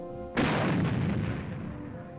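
A single heavy weapon blast on an Army firing range during Korean War–era infantry training, a loud boom that starts abruptly and rolls into a long fading rumble over a faint hum.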